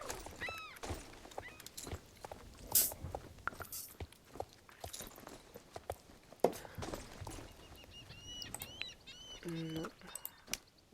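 Horse hooves walking in Star Stable, a soft irregular clip-clop of footfalls mixed with game ambience, bird chirps and occasional thunks, fairly faint, with a person talking in parts.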